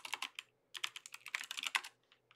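Quick bursts of typing on a computer keyboard while entering a command to start a Ruby on Rails development server, crisp close keystrokes in short runs with brief pauses, no talking.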